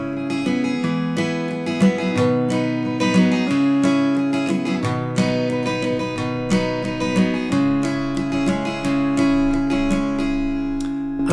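Acoustic guitar strummed in the rhythmic pattern for a song, leaning on the treble strings in a steady, continuous, fairly loud driving rhythm with no voices.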